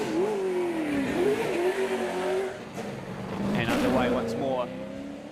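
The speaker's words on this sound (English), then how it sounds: "As you can hear the revs coming up for Daryl Breen." Race car at a Christchurch street sprint revving up, engine note climbing steadily and loud, close by, with a commentator talking over it throughout.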